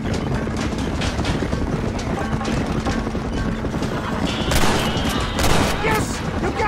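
Rapid gunfire crackles through a chaotic shootout in Red Dead Redemption, with dense overlapping shots, hoofbeats and a rising engine-like drone underneath, and voices speaking amid the din.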